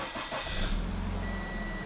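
A Subaru engine cranks and catches after a short block replacement with timing issues, a loud mechanical whir that settles into a steady idle hum, close up, with a faint high whine underneath.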